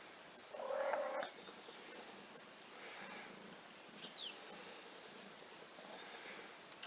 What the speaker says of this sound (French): Voilà, 2 chatons dans un carton, ils ont un mois.